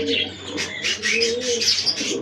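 Pigeons in their loft during morning feeding coo and chirp close by in overlapping bursts, with soft throaty calls over a faint low hum.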